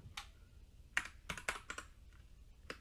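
Sparse, crisp keystrokes on a computer keyboard while working in an Excel spreadsheet without a mouse, about eight separate close taps at uneven intervals in a quiet room.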